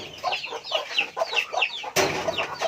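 Chickens clucking close by in a quick repeated rhythm of short calls, several bursts in a row, with a louder rustling noise joining partway through.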